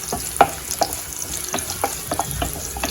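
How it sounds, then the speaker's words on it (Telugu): Onions dropped into hot oil in a kitchen pan give a soft, close sizzle broken by a few sharp crackles and clinks, with no one talking. "ఆయిల్ హీట్ ఎక్కిందండి ఇందులో ఆనియన్స్"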